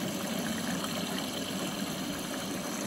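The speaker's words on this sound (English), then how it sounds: "More water's coming in that side." Water filling into a heavily limescaled Bosch WFP3300 washing machine, a continuous even rush and hiss of inflow, steady and close, with no talking.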